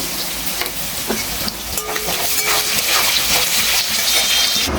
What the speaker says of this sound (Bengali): তো আলুটা ভাজা হয়ে গেছে